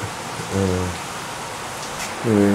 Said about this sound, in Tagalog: Hopefully okay kayo kasi sobrang lakas guys ng ulan.